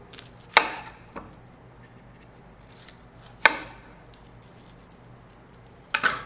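A knife roughly chops onion on a cutting board, giving a few sharp, separate thuds with pauses between them, close and clear against a quiet kitchen background.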